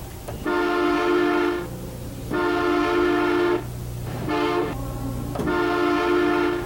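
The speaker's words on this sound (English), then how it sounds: "the engineer would blow it 2 longs, a short, and a long, like this" Loud train horn crossing signal close by: two long tones, a short one, then another long, with a low rumble underneath.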